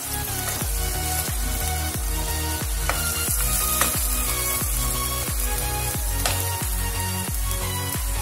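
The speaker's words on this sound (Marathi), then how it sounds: "आणि त्याला छान तेलामध्ये छान फ्राय होऊ द्यायचं, त्याला छान शिजू द्यायचं." Vegetables frying in oil for vegetable pulao, a steady dense sizzle close by, punctuated by regular thumping, scraping strokes roughly every half second, with no talking.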